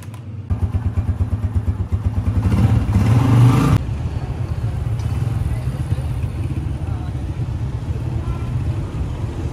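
A motorcycle engine starts close by and revs, its rapid putter climbing higher before dropping back to a steady idle that runs on to the end.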